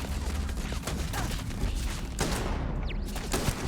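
A turret firing in the video game Starfield, rapid bursts of gunfire rattling continuously over several seconds, loud and close.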